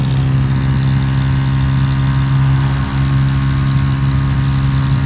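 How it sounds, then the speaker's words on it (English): Motorcycle engine held at full throttle while riding on the road: a loud, continuous, steady drone with strong low hum and broad wind roar, unbroken throughout, with no talking. "You can really hear the engine."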